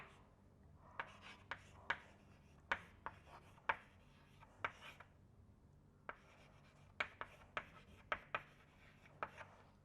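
Pen strokes of someone writing airfoil equations by hand: quiet, irregular scratches and taps at close range, in short clusters with brief pauses and no talking.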